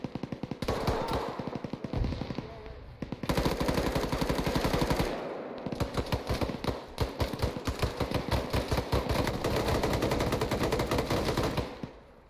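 Rapid automatic gunfire in the military shooter game Arma 3 during squad training, long dense bursts of machine-gun shots with brief pauses between them, loud and continuous without talk.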